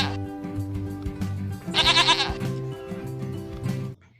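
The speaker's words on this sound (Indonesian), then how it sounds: "ternyata yang ini hewan domba" Sheep bleating in a children's animal game, one loud wavering bleat amid playful synthesized music and short electronic tones.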